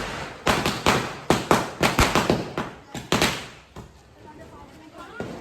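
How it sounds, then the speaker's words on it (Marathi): Rapid string of sharp cracking bangs, like firecrackers going off in quick succession during heavy rain at Diwali, then sparser pops as it dies down. "आता माऊलीने घेतलेत फटाके आत्ता इमर्जन्सी फटाके घेऊन आले ना"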